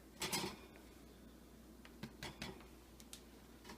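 Knuckles knock on a freshly baked white bread loaf just out of the pan, giving a few short, dull hollow taps, the first louder, then several softer ones spaced irregularly in a quiet kitchen.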